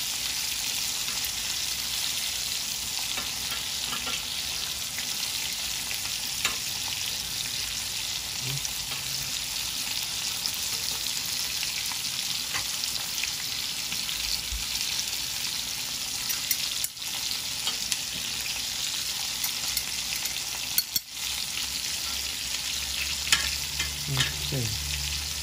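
Ribeye steak sizzling in a hot pan with garlic, a steady loud frying hiss throughout with occasional faint clinks of stirring.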